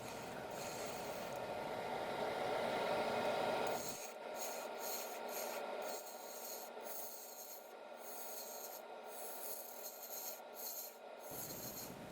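A bowl gouge hollowing a maple bowl on a wood lathe with light passes, giving a close, dry scraping hiss that runs steadily at first and then breaks into short, evenly spaced strokes.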